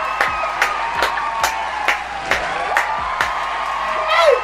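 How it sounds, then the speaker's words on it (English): Crowd clapping and cheering plays as a steady rhythm of sharp claps about every half second, loud and close, with whoops rising near the end. "let's get some more claps in the chat"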